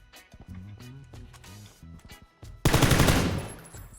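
A rifle fitted with a flash hider fires in the PUBG video game, a loud, dense burst of rapid automatic shots near the end. Quieter thumps and a distant voice-like tone come before it.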